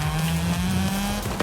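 A steady, close engine drone from race cars in the racing game Forza Horizon 5 holds a constant pitch, with a small bump near the end and no voices over it.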